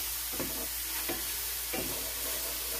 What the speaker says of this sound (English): So I'm just start frying these mushrooms in some olive oil